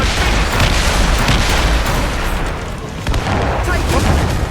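Ship cannons firing in Assassin's Creed Rogue during a naval battle: loud booming volleys with crackling bursts across a dense roar, with crew voices shouting over the barrage.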